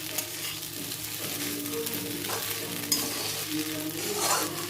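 An egg fries with cooked pasta and carrots in a pan, a steady sizzle punctuated by stirring scrapes and an occasional clink of utensil on the pan, with no talking.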